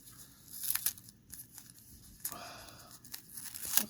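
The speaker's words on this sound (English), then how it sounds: "let's remove these pieces of tape off the sides also" Adhesive tape peeled off the edges of purse fabric in several sharp ripping strips, close and moderately loud, with crinkling bits between pulls.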